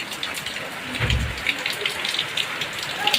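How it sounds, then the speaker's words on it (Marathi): Light drizzle patters softly and steadily, a fine continuous hiss of small raindrops on surfaces. "जास्त पाऊस नाही आहे झिमझिमच आहे"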